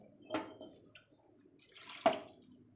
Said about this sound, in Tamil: கொஞ்சமாக தண்ணி ஊற்றி